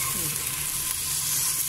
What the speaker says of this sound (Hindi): अभी हम इसको तल रहे हैं अच्छी तरह